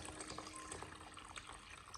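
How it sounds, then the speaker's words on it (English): Warm water pours steadily into a bowl of clams, a soft continuous splashing and trickling like a running tap, faint and close with no voices. "Add warm water at 40 to 50 degrees so that the clams are covered."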